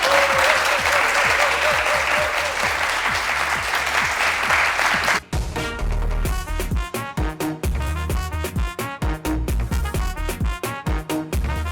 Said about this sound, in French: Je crois qu'elle mérite vraiment vos applaudissements.